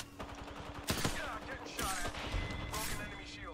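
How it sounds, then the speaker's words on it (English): Gunfire in the shooter game Apex Legends: sharp bursts of shots with clattering impacts over a steady, dense game soundscape, close and loud throughout. "Other team shooting at us right now?"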